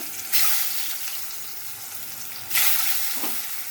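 Eggs frying in a pan with turmeric and salt give two sudden bursts of loud hissing sizzle, each swelling up sharply and then easing into a steady, quieter crackle.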